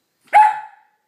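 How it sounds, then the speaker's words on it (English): A single short bark from a dog, sharp and close, rising quickly and fading within about half a second, alone against silence. "Do you see a dog?"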